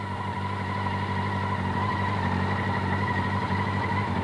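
A 1988 Honda Hurricane CBR 600F, a 600cc sport motorcycle, runs steadily nearby with a constant engine drone, holding an even, moderately loud tone throughout without clear rises in revs.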